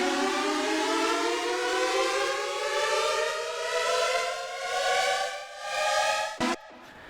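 A synth riser sweeping steadily upward, its tone pulsing and wavering under Auto Pan automation in Ableton Live, loud and alone before cutting off abruptly near the end.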